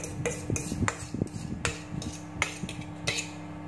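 A spoon works mashed banana into banana nugget batter in a bowl, giving a rapid series of close, irregular clinks and soft scraping thuds with no talking.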